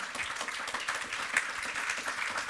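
Conference audience applauding, a short steady patter of many hands clapping at moderate loudness with no speech over it.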